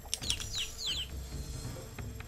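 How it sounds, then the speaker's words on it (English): Chirping bird calls from a video game forest level, a quick run of high tweets and downward-sweeping chirps in the first second, then fading under low rumbling game ambience. "Shut up, you mutt bird."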